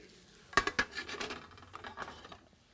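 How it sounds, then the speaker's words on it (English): Mushrooms being lightly cooked in a pan for a risotto and wild mushroom casserole, with a few sharp utensil scrapes and clinks against the pan over a soft sizzle, close and moderate in level. "We're going to just lightly cook the mushrooms."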